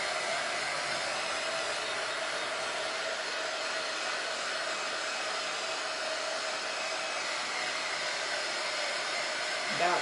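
Heat tool or hair-dryer-style blower running steadily to dry freshly painted wood picture frame trim, a continuous even whoosh held close and loud for the whole stretch with no talking.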